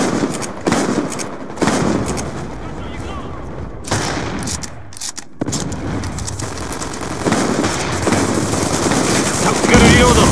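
Gunfire in Call of Duty: Black Ops 2 on PS3: loud, continuous automatic bursts with layered shots and explosions, a dense roaring fusillade that barely lets up, with brief gaps near the middle.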